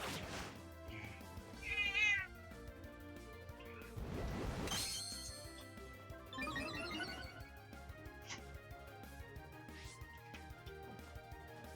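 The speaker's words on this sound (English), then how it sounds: "That meowing you hear in the background was my cat." A house cat meows several times, the calls rising and falling against music and game sounds from a Pokemon Brilliant Diamond session, fairly close but partly mixed under the soundtrack.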